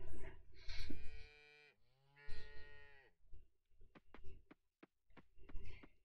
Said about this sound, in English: I wanted to milk the cow and pet the cow